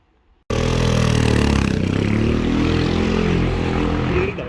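A motorcycle engine rumbles loudly and steadily through its exhaust muffler at a campsite, a dense low drone that starts abruptly and holds near and constant to the end.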